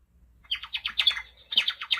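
Bird calls reproduced from a Cornell Lab bird sound book: a run of rapid, bright squawking chirps in two bursts, fairly loud and close with no voices present.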